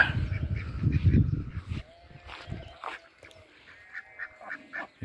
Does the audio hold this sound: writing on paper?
no